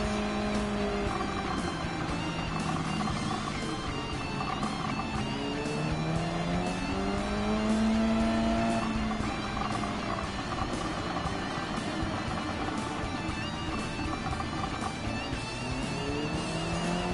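Subaru BRZ GT300 race car in Gran Turismo 7 at Fuji, engine droning loud and continuous for the whole stretch, pitch rising and falling through gear changes with other cars' engines mixed behind it.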